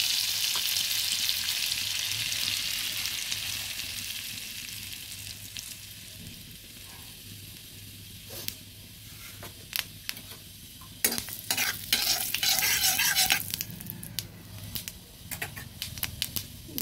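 Butter and cumin seeds sizzle in a pan, first as a bright, dense hiss that slowly fades. Later, sharp crackles and pops burst out, with a louder spurt of spattering toward the end.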